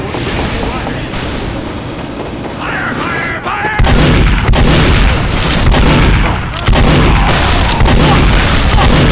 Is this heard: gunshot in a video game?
yes